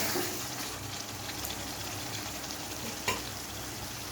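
Spice paste for Bengali chicken kosha sautés in a kadai with a steady, close, even sizzle, broken once by a brief clink of the lid or spoon.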